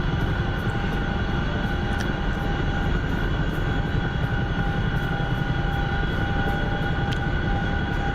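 A Black Hawk helicopter flies, its rotor chop and turbine whine forming a steady, loud drone with rhythmic blade pulses and no voices.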